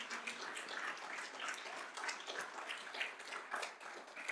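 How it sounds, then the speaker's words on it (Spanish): A church congregation applauds for the Lord, a steady stretch of fairly faint, dense clapping from many hands lasting a few seconds. "Denle un aplauso a nuestro Señor."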